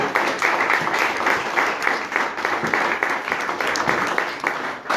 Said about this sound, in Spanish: Denle un fuerte aplauso a Cristo si lo cree.